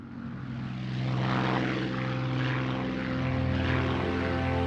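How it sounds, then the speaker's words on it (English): Spitfire fighter engine in flight during a training sortie, a loud, steady, close propeller drone with a deep harmonic hum and no voices. "Trainee pilot Dave Mallon is in his fourth hour of Spitfire training"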